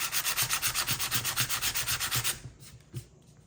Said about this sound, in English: Okay, the sandpaper also works.